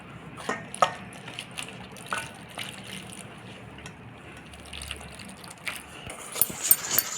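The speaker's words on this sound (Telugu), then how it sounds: "ఇలా ఎటువంటి కన్సిస్టెన్సీ వచ్చినంత వరకు వాటర్ వేయాలి" Water is poured into a spicy sweetcorn mix seasoned with masala, chilli powder and salt, giving a soft, steady trickle with faint splashes and occasional louder clinks.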